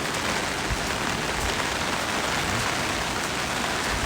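Steady rain pours down in flooded streets in Japan, a dense, even hiss of drops on surfaces that fills the whole clip at a constant loudness, with no voices.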